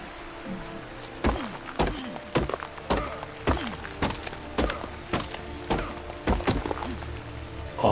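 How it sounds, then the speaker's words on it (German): Repeated sharp knocks of rocks being struck in the video game Ark, about a dozen blows in an uneven rhythm over faint rain-like background noise. "Ich klopp mal Steine."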